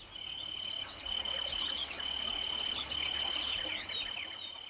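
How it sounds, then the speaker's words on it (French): Nature ambience played through a virtual reality headset for hospitalized patients: a steady, continuous chorus of crickets trilling at high pitch, with faint occasional bird chirps and a low background hum, no speech. "C'est le bruit de la nature qu'on n'entend jamais quand on est hospitalisé."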